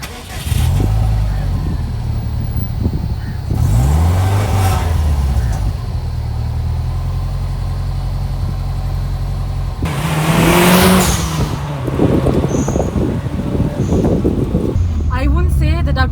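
A Subaru Impreza WRX STI with a 6-speed manual gearbox drives and accelerates, engine revs rising and dropping through several gear changes, loud and close inside the car.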